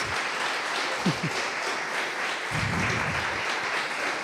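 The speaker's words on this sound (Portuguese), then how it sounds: "Você pode aplaudir bem forte o nome do Senhor?" Brief burst of applause from a church congregation, fairly steady clapping that swells slightly toward the end, no voices.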